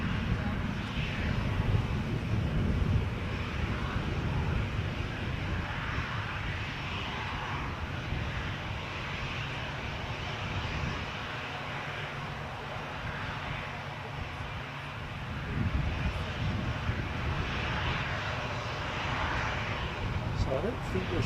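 Jet2 airliner departing Newcastle airport, a steady broadband engine roar that holds throughout with a slight swell near the start and again later, wind-like rumble underneath and people talking over it.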